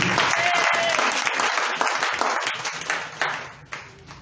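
A church congregation bursts into loud, dense applause and cheering that gradually thins out, with a few voices rising over the clapping.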